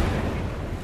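A grenade explodes in a first-person shooter, a dense, noisy boom that fills the whole moment, loud and close, with no voices over it.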